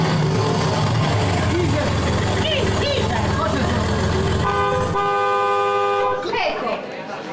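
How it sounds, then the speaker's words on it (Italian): A car pulls into a courtyard during an amateur stage play, its engine rumbling and then a sustained honk of the horn, loud and close, while people talk over it. "Sapete che si sta fermando che auto in corte?"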